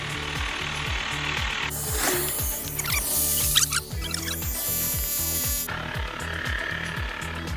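A compact electric bicycle tire pump runs close up with a fast, regular mechanical pulsing, its motor whine changing pitch midway as it inflates a tire to a set pressure.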